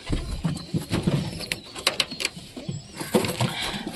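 Giribaz pigeons cooing in a coop, soft repeated low coos with light rustling and pattering around them, close and fairly quiet throughout.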